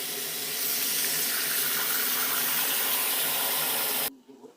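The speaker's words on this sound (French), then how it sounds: "je mets de l'eau bouillante dans mon lavabo" Boiling water poured into a bathroom sink gives a steady, loud hissing rush with a steamy, splashy texture that holds for about four seconds, then cuts off abruptly into quiet.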